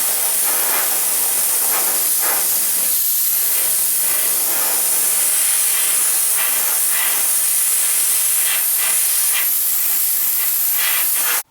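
A loud, continuous hiss of pressurized steam from a Black+Decker BDH1800SM handheld steam cleaner sprays steadily for several seconds, close to the microphone with slight fluctuations in intensity.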